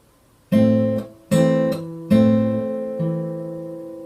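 Four Travis-style plucked guitar chords of the first and second strings sounded together, each ringing and decaying before the next, alone and close.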